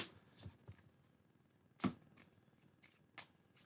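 2024 Bowman trading cards are shuffled by hand in a quiet room, giving a few sharp riffling bursts and soft slides spread over several seconds.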